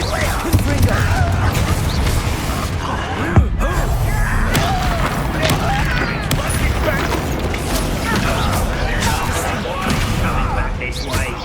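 Confringo fire-blast spells and combat in the Hogwarts Legacy video game: a dense, continuous barrage of booms, crashes and thuds with one sharp impact standing out, all loud and busy throughout.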